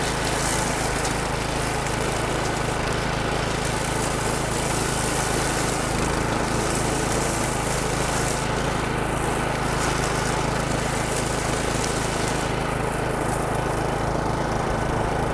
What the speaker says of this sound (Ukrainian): Як бачимо, косить косарка досить рівно, без будь-яких